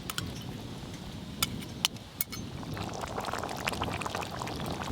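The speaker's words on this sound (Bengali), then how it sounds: "এবার ভেজে রাখা সিলভার মাছগুলো দিয়ে দেব। এবার একটু এই গ্রেভির মধ্যে ভালো করে ডুবিয়ে দেব, দিয়ে একটু ফুটিয়ে নিলেই হয়ে যাবে।" Fried silver carp pieces go into a simmering gravy in a pan, giving soft bubbling and liquid sloshing with a few sharp clinks of a utensil against the pan.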